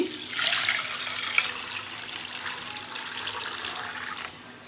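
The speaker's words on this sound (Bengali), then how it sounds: "ডাল দিয়ে দিচ্ছি পানি" Water pours into a pot of lentils for plain white dal, a close, steady splashing rush that runs for several seconds and then tapers off, with no talking.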